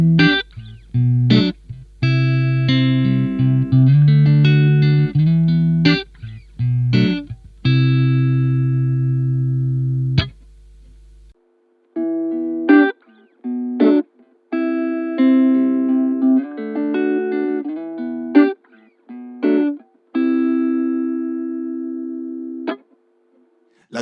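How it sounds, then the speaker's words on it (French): Lo-fi electric guitar with the highs and lows cut and a concentrated midrange plays several sustained chords and short plucked notes, pausing briefly midway before continuing, alone without talk. "Et ça va être la base de votre son de guitare."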